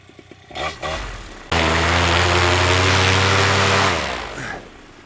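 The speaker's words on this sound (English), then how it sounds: "So you want to do your motor run up right before launch." A Dominator paramotor trike engine runs up before launch: a few short blips, then a sudden loud, steady roar at high revs held for about two and a half seconds before winding down, close by and without speech.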